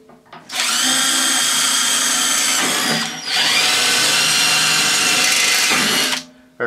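A power drill whines loudly and steadily for a few seconds while drilling through a car hood, stops briefly, then runs again at full speed before cutting off.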